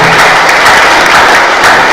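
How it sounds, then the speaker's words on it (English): A loud, dense burst of audience applause fills the hall as a CEO is welcomed on stage at a data science talk, with many hands clapping continuously at close range. "please an applause for Björn"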